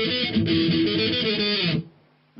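Electric guitar playing the main riff, a dense, loud strummed passage with a gritty tone lasting under two seconds, then a quick cutoff and a faint new attack.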